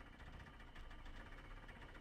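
Stock engine of a jalopy in the video game Jalopy, running steadily with a rough, shaking idle, a dense low rumble and mild knocking texture throughout, alone with no talk.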